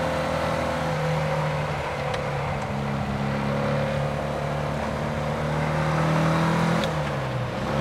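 A 60-horsepower Porsche 356 B engine drones steadily on a drive, its pitch lifting and falling with a brief rev-matched downshift blip near the end, heard from inside the car with no talk.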